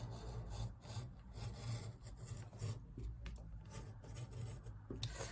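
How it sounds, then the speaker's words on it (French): Utility knife slicing through thick cardboard on a cutting mat while making a Christmas candle centerpiece, a close, steady rasping scrape that continues with no pauses and no voices. "il va falloir essayer de les couper avec le cutter"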